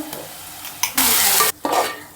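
Ginger garlic paste and onion fry for a dry clams masala, a close sizzle that flares into loud bursts of hissing with short stirring scrapes in between.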